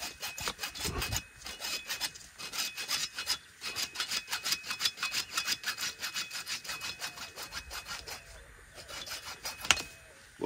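Irrigation tubing sawn through by hand, a steady run of quick rhythmic rasping strokes for several seconds that pauses briefly, followed by a final short burst and a sharp snap as the cut finishes.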